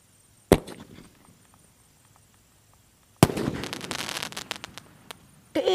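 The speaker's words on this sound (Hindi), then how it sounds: "ये चल रहा हमारा मर्करी का ब्लैक पैंथर वाला स्काई शॉट" A Mercury Black Panther sky shot firework goes off during Diwali cracker testing, with a sharp launch bang, then a loud burst of dense crackling a few seconds later and another pop at the end, heard outdoors at moderate distance.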